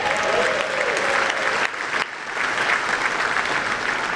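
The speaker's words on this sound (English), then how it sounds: "let's all give a big round of applause" A crowd at a radio hall of fame induction ceremony claps loudly and continuously, a dense, close wash of applause with a brief dip midway before swelling again.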